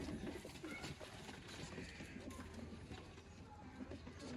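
Ferozpuri female pigeon cooing faintly among general background noise, with a low murmur of other birds around it.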